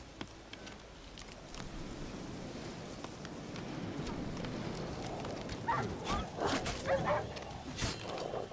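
Dogs bark and yip in bursts over a steady rushing wind in the video game The Witcher 3: Wild Hunt, growing busier and louder toward the end, with whimpering yelps mixed in.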